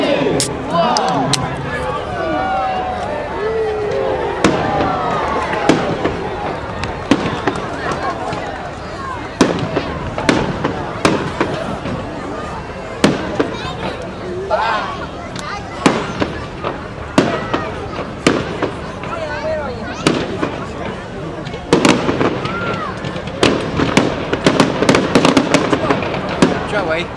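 Bonfire Night fireworks bursting in rapid irregular succession, sharp bangs and crackles over a bustling outdoor crowd with people talking and shouting throughout.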